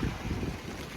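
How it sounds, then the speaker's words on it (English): A tent door flapping in strong wind on a camping trip along the West Highland Way in Scotland, heard as a dense continuous rush and flutter of fabric with buffeting wind noise close to the microphone. "But the door is flopping."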